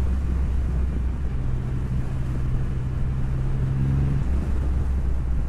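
A 2020 Triumph Rocket 3 GT motorcycle being ridden, its engine a steady low drone under heavy wind rush, one engine note holding briefly before dropping away, with no talk.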